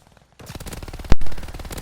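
Call of Duty Vanguard AT rifle (anti-tank rifle) fires in-game: a single loud, sharp crack lands about a second in. Dense, rumbling battle noise surrounds it, beginning just before the shot and continuing after.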